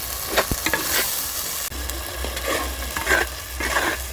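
Spice masala with yogurt is stirred and fried in a pan for chicken curry, giving a steady sizzle broken by scraping stirs at irregular intervals, close and fairly loud with no talk.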